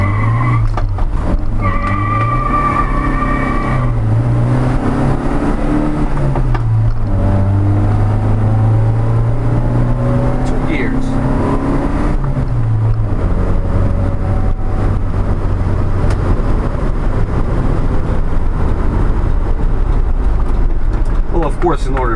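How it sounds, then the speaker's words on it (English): A 1985 Toyota LiteAce CM21 truck with a 1300cc 4K-J engine revving hard and spinning its tires, loud repeated engine surges with squealing rubber, while someone talks over it. "Now we're going to do a little tire smoking."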